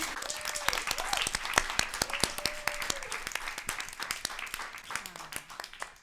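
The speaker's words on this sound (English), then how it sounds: "May we have a round of applause for everybody?" Scattered, fairly sparse applause from an audience at a university senior symposium, individual claps standing out sharply, with faint voices in the background as it slowly tapers off.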